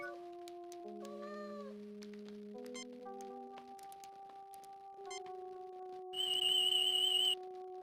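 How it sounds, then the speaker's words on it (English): A cat meows with a rising, tonal call amid steady electronic beeps and tones, followed by a loud burst of high-pitched electronic warbling. "Terran cat, feeling very self-satisfied."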